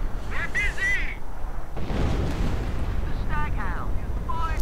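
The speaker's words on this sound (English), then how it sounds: "And artillery against the British base, though he clearly doesn't quite know where it is." Artillery shells land on a British base in a real-time strategy battle, heavy booming impacts and rumble running through the clip, with game voice chirps and a commentator talking over it.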